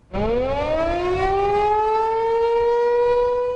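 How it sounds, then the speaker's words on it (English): A loud civil-defense siren in central Illinois wails steadily during severe weather, its pitch rising at the start and then holding a sustained, blaring tone throughout. "Sirens blaring."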